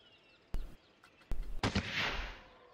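Fireworks in the video game Planet Coaster, sharp booming launches followed by a burst and a crackling, hissing shower that fades out.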